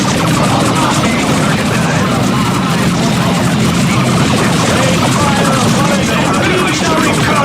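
Rapid gunfire and explosions from the Dawn of War 2 video game, a dense, loud and continuous battle din that fills the whole stretch.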